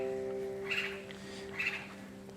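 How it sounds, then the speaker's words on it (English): Birds calling outdoors, two short chirping bursts about a second apart, fairly faint over a steady low hum. "I hear the birds."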